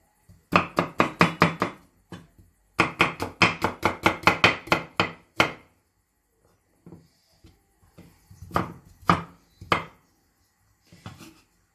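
Garlic being chopped with a knife on a cutting board, two quick runs of rapid, crisp close knocks followed by a few sparser, scattered taps, with no talking.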